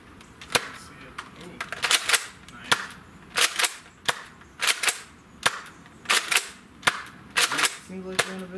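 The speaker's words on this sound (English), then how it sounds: "I'll fire some shots over the chronograph at all four of these things" A Nerf Modulus Tri-Strike foam blaster firing shots over a chronograph, sharp close pops repeated about a dozen times at an uneven, roughly half-second rhythm, with faint talk and a brief beep near the end.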